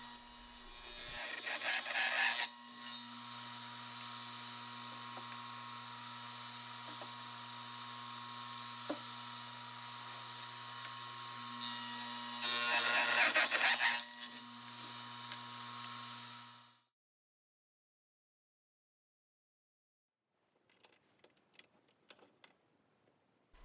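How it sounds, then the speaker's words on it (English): A saw with a carbide blade cuts through 3/4 inch aluminum rod with a steady, loud, high whine that holds for about sixteen seconds before cutting off into silence, followed by a few faint clicks. "Aluminum is easily cut on a saw with a carbide blade."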